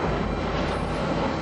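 Automated, computer-flown airplane in flight, a steady loud broadband roar of engine and airflow with no clear changes over a brief moment.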